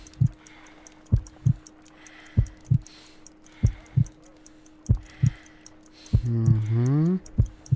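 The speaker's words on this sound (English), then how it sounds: "I need to concentrate and count the heartbeats." A slow, weak heartbeat from Sherlock Holmes: Crimes and Punishments thumps in clear paired beats at a steady rhythm, close and prominent over a faint hum, with a short voice cutting in near the end.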